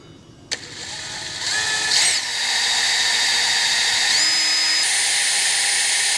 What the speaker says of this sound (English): there's nothing else to do apart from try and drill this